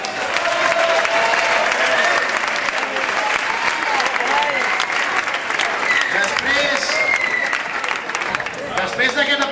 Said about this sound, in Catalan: Després d'aquest aplaudiment, que és una mica el de rigor